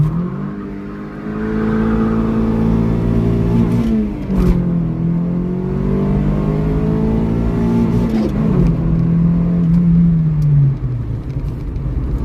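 Gutted Integra track car accelerating hard through a 0-60 run, its engine note climbing through several gears with brief drops at each shift, loud and close, with no talking.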